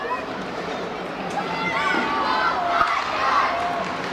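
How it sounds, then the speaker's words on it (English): A hockey crowd cheers and roars in a Tillsonburg arena, a steady wash of voices with shouts and whistles building through the middle and peaking near the end. "Crowd is fired up here in Tillsonburg."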